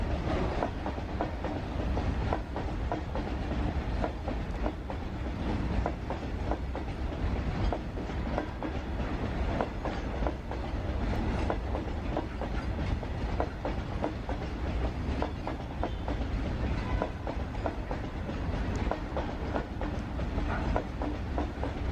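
A WAG-5 electric locomotive hauls a goods train past, with a continuous rumbling roll and rhythmic clickety-clack of wagons on the rails, sustained and fairly close for the whole stretch.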